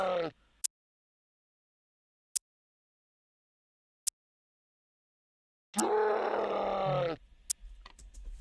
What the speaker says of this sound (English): all the drum sounds were made using a Nintendo 3DS